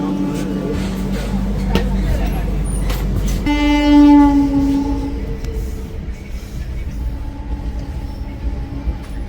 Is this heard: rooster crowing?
no